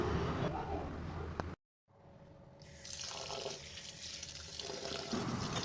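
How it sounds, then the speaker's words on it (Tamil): Raw rice is washed with water for idli: a steady, close rush of running water into a vessel, briefly cut off, then resuming as a splashing, trickling wash, with no talk. "நல்லா மூணு தடவை வாஷ் பண்ணி எடுத்துக்கோங்க"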